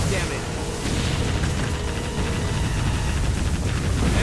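A cruise missile launching and striking an enemy ship in the naval combat game Warship Gunner 2, a dense continuous roar of booms and blasts filling the whole stretch at steady loudness.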